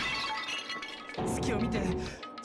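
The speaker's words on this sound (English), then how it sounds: "I grabbed the Monokuma bottle from the shelf and smashed it across her head" A glass Monokuma bottle smashes in the video game Danganronpa: Happy Trigger Havoc, a loud close shatter with tinkling shards scattering briefly afterward.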